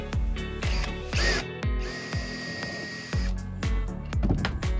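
Repeated short bursts of a power drill boring holes for T-nuts in a Ford Transit Connect van conversion wall, several brief whirring pulses with sharp starts and a sustained high whine in the middle, close and fairly loud.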